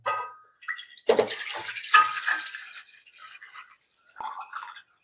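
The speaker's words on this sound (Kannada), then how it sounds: "ಇದಕ್ಕೀಗ ನಾವು ಮೊದ್ಲಿಗೆ ನೀರ್ ಹಾಕೋಬೇಕು." Water pours for kokum juice in bursts, splashing and trickling into a container at close range, with short pauses between pours.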